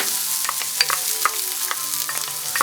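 Chopped onion, about a cup, sizzling in a pan preheated on medium heat, with steady frying hiss and a few light stirring taps and scrapes close by.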